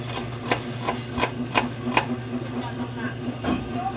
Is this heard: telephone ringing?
no